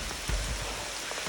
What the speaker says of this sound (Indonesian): Apalagi sekarang ini tambah hujan, gak deras lagi.